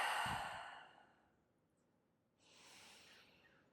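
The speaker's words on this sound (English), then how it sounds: "Take a deep breath into the low back." A long, deep exhale during a yoga session for lower back pain, a loud breathy rush that fades out, followed by a quieter, softer breath a moment later, with no talking.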